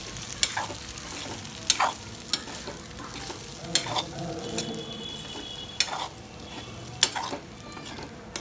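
Sabudana and potato pieces stirred and sautéed in oil, a close sizzle broken by repeated sharp scrapes and taps of a spoon against the pan at an irregular rhythm.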